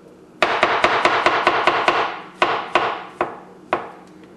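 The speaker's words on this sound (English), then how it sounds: "Now I'm just gonna chop them up again." A knife chopping vegetables on a cutting board: a quick run of about nine sharp, close knocks, then a slower scatter of five or six more, with no voices.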